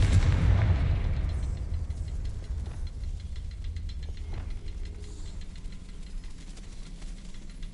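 A Confringo spell explosion in Hogwarts Legacy on Xbox Series X starts with a heavy low boom that fades into a long rumbling tail, with faint ticking and debris-like clatter continuing throughout.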